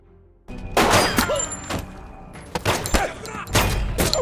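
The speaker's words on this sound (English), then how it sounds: "Rogue had planted a bomb in the place and immediately detonated it" Bomb explosion in a film scene, a burst of heavy booms and crashing blasts with debris, several loud hits in quick succession over a few seconds.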